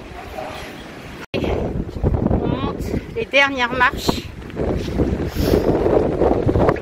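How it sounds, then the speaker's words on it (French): Strong wind on a hilltop buffeting the microphone, a loud continuous rumbling roar with gusty surges throughout as people talk over it. "Parce que il y a du vent."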